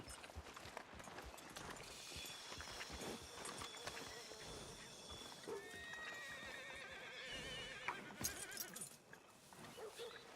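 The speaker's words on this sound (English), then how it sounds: "Are you gonna mount that new horse of yours or not?" A horse in Red Dead Redemption 2 gameplay whinnies and snorts while hooves clop steadily, with game ambience and rustling throughout and a sharper neigh near the end.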